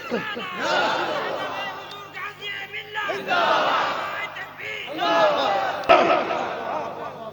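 A large religious gathering roars back in answer to the Naara-e-Takbeer call, many voices swelling together in loud repeated chanted shouts, with crowd chatter and cheering between the bursts.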